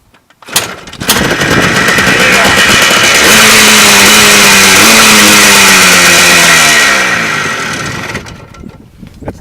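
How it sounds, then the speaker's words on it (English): A Yamaha ATV engine cranks and catches with the choke pulled, then runs loud and close, revving up and settling into a steady buzzing idle before cutting off. "Hit the kill switch. Gotta pull a choke because it's a Yamaha."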